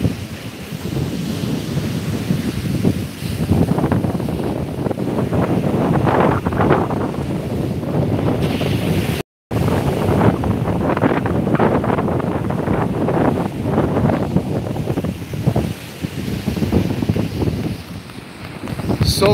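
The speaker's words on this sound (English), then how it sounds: "Take in these ocean waves, guys." Ocean waves wash continuously on an East Coast beach at sunset, with heavy wind buffeting the microphone throughout and a brief dropout midway; the surf roar stays steady and close, with no talking.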